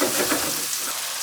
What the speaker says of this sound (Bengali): এখন এই মশলাটা আমি এভাবে 5 মিনিট ভাজবো।